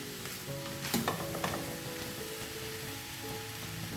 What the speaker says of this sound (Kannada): ನಮ್ಮ ಈರುಳ್ಳಿ ಅವರೆಕಾಳು ಎಲ್ಲ ಎಣ್ಣೆ ಜೊತೆಗೆ ಬೆರಿ ಬೆರಿತಾ ಇದೆ ಚೆನ್ನಾಗಿ